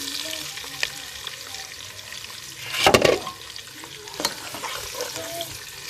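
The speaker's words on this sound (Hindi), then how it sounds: "तो जी प्याज मैंने ऐड कर दी है। ठीक है, इसको हल्का सा ब्राउन करेंगे।" Medium onions fry in a pan for a liver kaleji recipe, a steady close sizzle with stirring scrapes and a louder burst of sputtering partway through.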